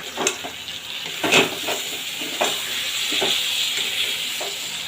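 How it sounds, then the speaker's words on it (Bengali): A pan of potol and lentil fritter curry sizzles and hisses steadily while a spoon stirs it, with soft scraping knocks at irregular intervals. "এবার বেশ ভালো করে কষিয়ে নেবো আমি যেন তলায় ধরে না যায়"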